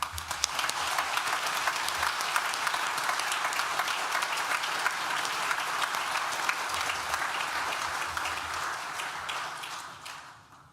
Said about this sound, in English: Please join me in thanking them with a well-deserved round of applause.